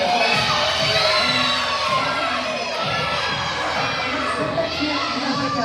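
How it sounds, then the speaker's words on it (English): An audience of children and adults at a basketball ceremony claps and cheers, loud and continuous, with shrill kids' shouts and crowd voices mixed throughout the burst. "A round of applause for Peter."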